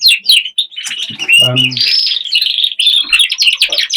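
Busy chirping and tweeting from several small caged birds close by, continuous high calls overlapping throughout, with a brief lower squawk in the middle.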